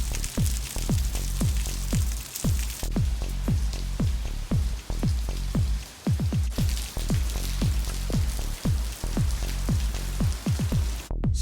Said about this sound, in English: Man, what a rain that was.